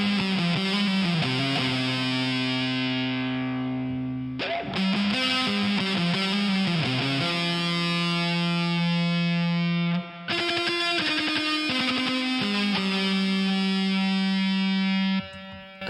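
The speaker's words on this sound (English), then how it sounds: "this guitar is very distorted" A heavily distorted electric guitar plays sustained, buzzing chords and held notes, loud and continuous, with brief breaks between phrases.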